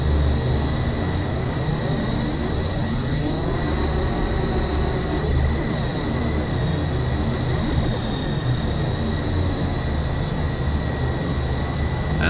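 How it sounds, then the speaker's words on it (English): The Tupolev Tu-114 propeller airliner in Flight Simulator X drones loudly and steadily in flight, a dense sustained engine and propeller roar with constant tonal hums and no pauses. "If you listen closely, you can hear the propellers."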